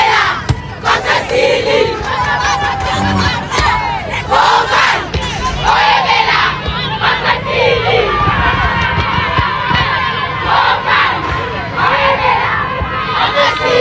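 A large crowd sings and chants loudly behind someone holding a camera, with shouted voices and cheering mixed into a dense, continuous roar that stays at full strength throughout.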